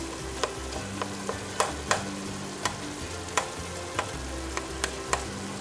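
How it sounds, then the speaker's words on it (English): Seasoned ground meat with onion and bell pepper sizzles steadily in a pan, broken by a series of sharp spoon clicks and scrapes as it is stirred, close and alone. "You just give that a little stir every now and then, sort of break it up, because you don't want big clumps."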